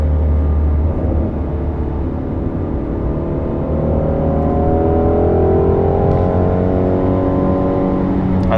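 Steady, loud engine drone of a Ford Shelby GT350 cruising a backroad, a continuous low rumble with rising harmonic tones as revs climb gently, heard from inside the car with no talk.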